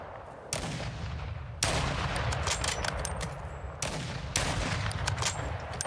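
Gunfire in Call of Duty Modern Warfare II, loud bursts of rapid shots that start and stop in several long volleys, close and dense with crackling reports and no talk.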